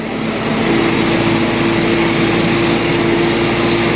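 An MTZ-892 tractor engine runs at a steady, even drone with a constant mechanical hum. It is close and loud throughout, with no pauses and no voices.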